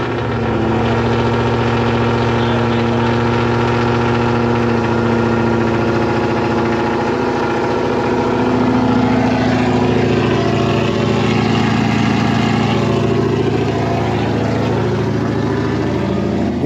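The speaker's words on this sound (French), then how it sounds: "Waouh, c'est un moteur bruyant." A 420 hp Ford Mustang GT with a loud exhaust idles steadily up close, a deep, even rumble that holds for the whole stretch with a slight swell midway.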